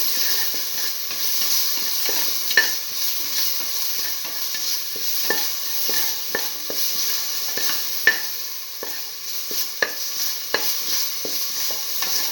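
Salt and green chili being stirred into food cooking in a pan for an eggplant and split mung bean rice dish, with a steady sizzle and hiss under repeated scraping strokes and a few sharp utensil clicks.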